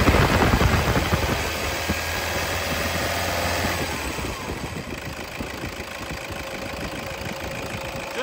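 A 2014 Toyota Innova Z diesel engine is revved in the open, a steady mid-pitched rumble that swells at the start and then settles into a loud, continuous drone.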